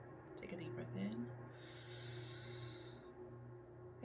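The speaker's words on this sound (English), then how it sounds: "my breathing is very deep and very loud" Deep, loud breathing during a guided meditation: a slow, audible breath drawn close to the microphone, with the meditating voice briefly present.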